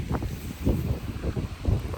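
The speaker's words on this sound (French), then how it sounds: "il y a du vent" Gusty outdoor wind buffeting the microphone in uneven low rumbling bursts, a rough blustery noise with no voices.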